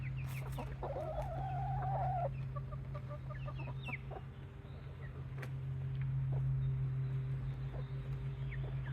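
Chickens cluck in a backyard chicken run, with one drawn-out squawk early, then scattered soft clucks and calls over a steady low hum, fairly close and quiet.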